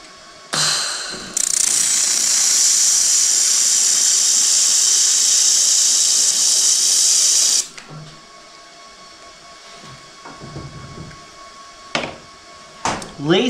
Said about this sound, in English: Now we're gonna weld it back together.